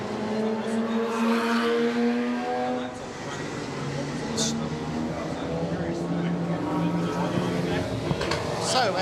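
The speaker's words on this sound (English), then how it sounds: "So as the cars make their way past us, just doing a couple of laps" Sports and GT race cars, including pre-1974 prototypes, pass on warm-up laps at Passion for Speed 2024, engines droning with sweeping pitch as several cars go by at moderate distance, with a commentator talking over the sound.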